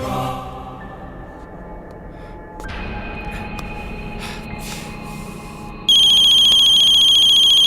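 A mobile phone ringtone rings in a tense scene of a Hindi horror film: a soft electronic melody starts, then jumps to a loud, sustained, piercing ring tone that carries on to the end.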